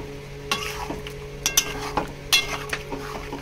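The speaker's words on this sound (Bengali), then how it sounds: "আগে একটু এটা দিয়ে মশলাটাকে দিয়ে কষিয়ে নিই।" Chicken with curry masala being sautéed dry in a pan, a faint sizzle under irregular scraping and clinking strokes of a metal spoon against the pan, close by.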